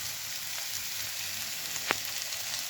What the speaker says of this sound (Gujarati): હવે આપણે જે ભૂકો કરેલો હતો સિંગદાણાનો એ બી આ સ્ટેજ ઉપર એડ કરી દઉં છું